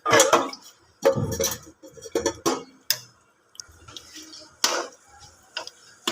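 Green peas being stirred with cooking oil in a bowl for homemade spicy matar nimko give intermittent clinks and scrapes of a spoon against the dish, close and separated by short quiet gaps.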